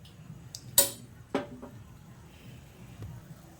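A lid is set on a pot of boiling semolina rasgullas, making two sharp metallic clinks close together, followed by quiet with a faint tick.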